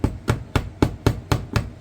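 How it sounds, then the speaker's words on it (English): Brass eyelets are hammered into a washboard guitar, giving seven evenly spaced sharp metallic taps about a quarter second apart, loud and close with nothing else heard. "so I'm going to hammer them in a little bit here."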